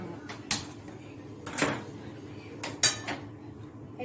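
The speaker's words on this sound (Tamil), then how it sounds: "சிம்மில் வச்சுட்டு தட்டை போட்டு மூடிடுவோம்" A plate set over a pot of simmering sambar, producing a few close metallic clinks and scrapes spaced about a second apart against a faint kitchen background.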